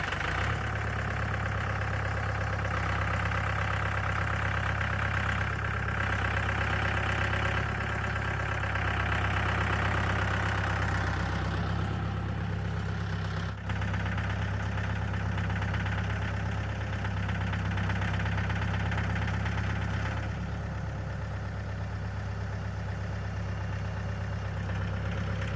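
Sawmill engine idling at a lumber yard, a steady low rumble with a slight knocking pulse, continuous and fairly loud throughout with no talk.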